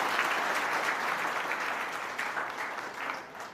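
An audience at a Gujarat community education seminar breaks into steady, dense applause, many hands clapping together for a few seconds and tailing off slightly at the end.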